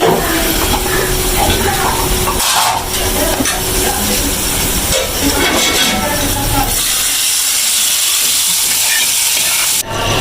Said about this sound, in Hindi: अब मैं पकोड़े फ्राई कर रही हूँ